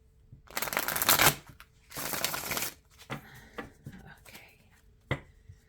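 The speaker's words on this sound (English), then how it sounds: "Okay, one more shuffle, I guess." Two long, loud riffles of tarot cards being shuffled up close, followed by several softer taps and clicks as the deck is squared.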